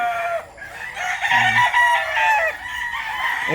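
Bulik breeder rooster crowing close by, one long drawn-out cock-a-doodle-doo with a short cluck partway through, loud and clear against a quiet background.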